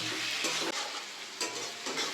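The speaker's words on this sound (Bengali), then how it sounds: "এখন এদিকে এটা ভাজা চলছে হালকা হালকা করে লাল লাল করে ভাজা হবে এটাকে" Ground spice paste with coriander fries in a pan for homemade biryani, a steady close sizzle with brief stirring scrapes and no talk.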